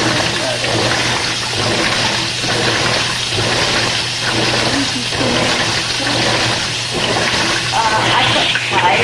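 A loaner washing machine filling with water on its Delicates cycle, a steady loud rushing flow of water from the faucet, continuous and close, with voices talking over it.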